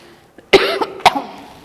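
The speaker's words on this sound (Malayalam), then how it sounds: "ഡിസൊരു ചുമയാണ് കേട്ടോ" A teacher coughs during a class lesson, two sharp, close bursts with a softer hack in between, then a quiet moment.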